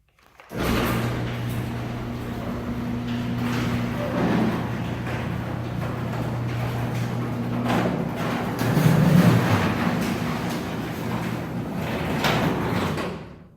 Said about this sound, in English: Or if I can hit the garage door